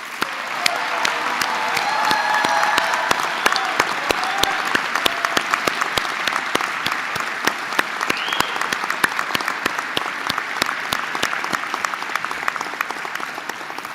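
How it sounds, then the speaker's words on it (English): Warm applause from a graduation audience at a university ceremony, steady dense clapping lasting throughout with a few brief cheers, fairly loud and sustained. "you deserve a warm round of applause"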